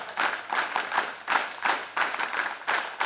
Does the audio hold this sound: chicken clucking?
no